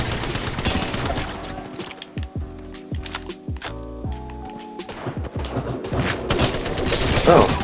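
Rapid bursts of automatic gunfire from the video game Apex Legends, crackling in quick volleys throughout amid a busy battle mix, with scattered sharp impacts and short pauses between flurries.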